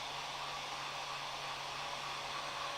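A hair dryer blows steadily on craft barnacles for tabletop terrain furniture, a constant faint whir with an even airy hiss and a low hum, no pauses.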